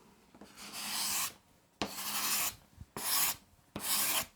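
Hand scraper drawn across a wooden workpiece in a luthier's workshop, four distinct close rasping strokes separated by short pauses.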